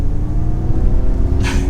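A Ford Mustang Mach-E electric car accelerates, heard as a steady loud low rumble of road and cabin noise with a brief rising whine near the end, recorded from inside.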